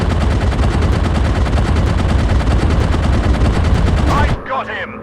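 Loud, continuous rapid-fire machine gun chatter from an aeroplane dogfight video game, with dense rhythmic bursts that cut off abruptly near the end and are followed by brief quieter game sounds.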